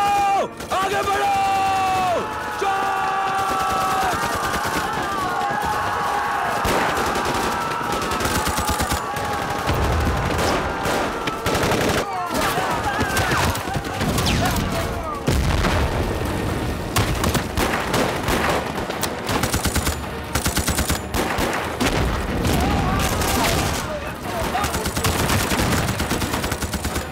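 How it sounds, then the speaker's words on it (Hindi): Soldiers lay down covering fire in a Hindi war film battle: loud, sustained machine-gun and rifle bursts, with shouting voices mixed into the dense gunfire. "give me cover fire"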